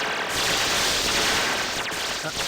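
Sustained rapid gunfire from a robotic spider character in an Xbox Live indie multiplayer combat game, a dense continuous burst of shots running loud and unbroken throughout.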